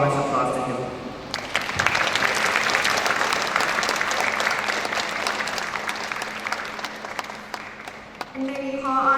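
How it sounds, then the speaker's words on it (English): A seated audience at a pep talk gives a speaker warm applause, a dense wash of clapping that swells in after a brief moment of talk, holds steady for several seconds, then fades as a voice returns at the end. "let us give our warmest applause to him"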